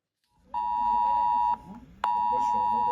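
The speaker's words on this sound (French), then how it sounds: "Une sonnerie reconnaissable et une notification automatique avec un message d'alerte envoyé sur tous les téléphones portables d'une zone géographique" Emergency alert ringtone broadcast to mobile phones, a loud steady electronic tone sounding for about a second, breaking off, then returning, with faint talk underneath.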